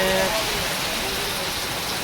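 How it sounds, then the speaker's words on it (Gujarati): Steady heavy rain pours down in a dense, even hiss that fills the scene close around, with a faint tonal hum at the start and no breaks in the downpour. "વરસાદ જોરદાર આવી રહ્યો છે, વરસાદ પડી રહ્યો છે"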